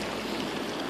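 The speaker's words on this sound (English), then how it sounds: "The water, the steam water coming out from it." Hot spring water flowing down from a mountain near Gilgit, a steady close rushing stream with no voices over it.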